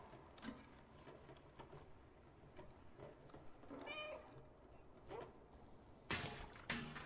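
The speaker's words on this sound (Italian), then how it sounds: "Che facciamo? Miagoliamo?" In the video game Stray, a cat gives a few short meows amid quiet game ambience, one around the middle and a sharper pair near the end.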